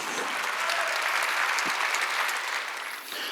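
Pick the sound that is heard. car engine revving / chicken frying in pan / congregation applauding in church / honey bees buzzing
congregation applauding in church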